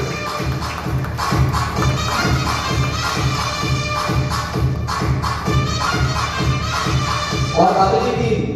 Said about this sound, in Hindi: जोरदार तालियां गंभीर सिंह चौहान के लिए